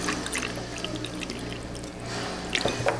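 Water poured into the tank of a Lustre or Lucia artisan aroma diffuser, a steady trickling pour close by with a few sharper splashes near the end, no talking.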